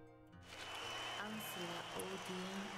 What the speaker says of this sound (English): it was no surprise to hear the cheer go up in the square